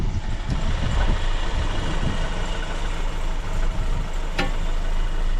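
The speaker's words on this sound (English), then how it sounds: "she's just ticking over lovely too" A barn-find MK1 Ford Fiesta XR2 engine idling steadily, a close, even low rumble running through the whole stretch with a brief click near the end.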